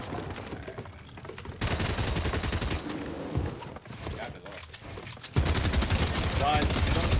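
Bursts of SMG fire in Fortnite Ranked Reload, loud rapid volleys that start and stop across the stretch, mixed with other game effects and occasional talk.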